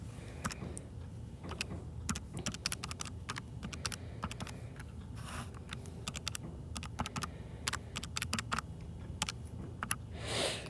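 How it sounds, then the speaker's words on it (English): Numbers being keyed into a computer keyboard while adding totals for a math lesson: a steady run of quick, close key taps with short pauses between bursts, and no one talking. "So when I type all that in"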